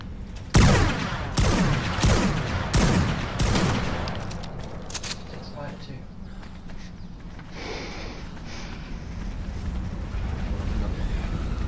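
Gunfire in ARK Survival Evolved opens with a rapid run of five loud, sharp shots inside a cave, then fades into rumbling ambience and a few softer distant cracks.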